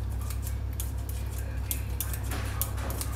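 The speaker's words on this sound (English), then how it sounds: "I just snip the bacon into the pan using scissors." Kitchen scissors snip streaky bacon into a frying pan, giving a series of quick, faint metallic cuts spaced irregularly over a low background hum.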